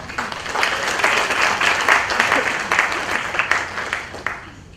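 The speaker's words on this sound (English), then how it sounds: "So if I can please get you to give a big round of applause to Wendy Bauer." Steady applause from an audience, many hands clapping at once, sustained and fairly loud before tapering off at the end.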